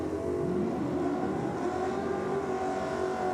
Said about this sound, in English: Hear him on the track mics giving that gearbox what for.